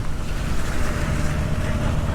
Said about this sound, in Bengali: ঝড় বৃষ্টি পড়তেছেই।